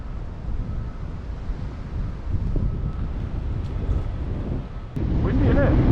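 Wind blows at a cliff edge on Canada's Bruce Trail, buffeting the microphone in a constant low rumble that swells stronger near the end, with people talking over it.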